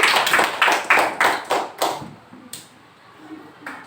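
A class of fourth-grade pupils at an Islamic primary school claps in a quick burst of sharp, close hand slaps, the rhythm loosening and fading into a few scattered claps.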